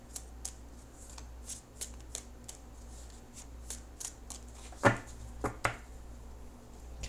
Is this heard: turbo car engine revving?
no